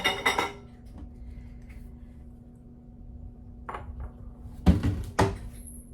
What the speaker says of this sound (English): So I'm gonna go ahead and mix up my dry rub.